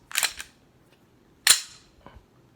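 A pistol's trigger is pulled and the striker snaps twice in sharp, close metallic clicks, each followed by a smaller click, with a pause between them and no talking.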